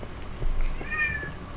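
A cat gives a single drawn-out meow, moderately faint, against a quiet background hum with no talking.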